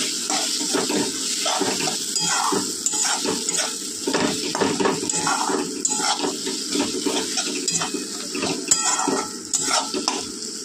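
Water is poured into a pot of frying mutton curry, a steady splashing stream over sizzling spices, with faint clinks of utensils and no talking.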